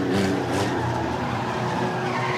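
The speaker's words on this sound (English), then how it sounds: "Trying to get through as Pandulo gets by another lap car" Race cars roar around an enduro track in a constant, dense wall of engine noise and tire squeal, loud and close with no break.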